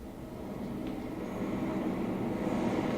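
Rumbling rail noise of an approaching train, played as a theatre sound effect, builds gradually into a loud, continuous roar with faint metallic squeal, alone without voices.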